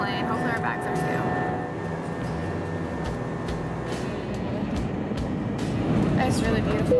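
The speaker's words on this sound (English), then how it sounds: "The important part, we're on the plane." Steady airplane cabin drone during flight, a low continuous rumble underneath nearby voices talking throughout.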